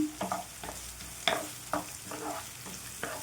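Curry leaves and slit green chillies fry in a pan, giving a soft, low-level sizzle broken by about seven distinct scraping and tapping strokes of a spatula at an uneven pace, with no one speaking.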